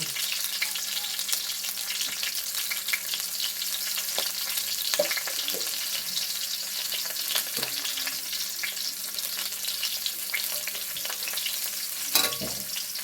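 Food frying in a pan with salt and turmeric added, giving a continuous soft hiss of sizzling with occasional scrapes and knocks as it is stirred, close and even throughout.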